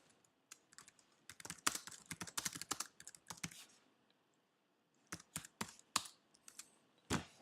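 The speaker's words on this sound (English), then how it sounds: "Of course you could just type directly" Typing on a computer keyboard close by, quick bursts of crisp key clicks in two clusters separated by a short pause, with a few isolated keystrokes at the end and no talking.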